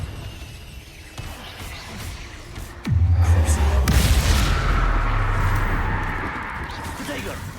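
Explosive Confringo and Bombarda spells in Hogwarts Legacy, a sudden deep boom that rumbles on for several seconds before fading, with a voice speaking alongside.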